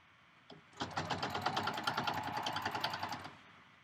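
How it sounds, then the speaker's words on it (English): A domestic sewing machine stitches down a long fabric strap for a reversible bag, a fast, even run of needle strokes starting after a brief click and running steadily for about two and a half seconds, close and clear with no talking. "So I'm just stitching down, stitching down, stitching down."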